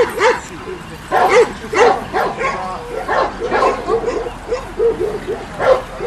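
Macedonian shepherd dog (Karaman) puppies bark and yip repeatedly in quick bursts nearby at a national dog show, with people talking in the background.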